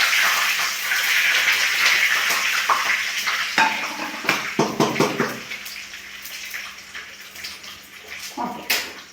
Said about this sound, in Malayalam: കടുകിട്ട് കൊടുക്കുക. കടുക് പൊട്ടി.